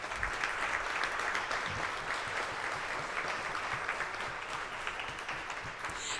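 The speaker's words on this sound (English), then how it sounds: "Can I get a big round of applause for them" An audience at an awards gala claps steadily, a dense wash of applause that stays loud and even throughout, with no speech over it.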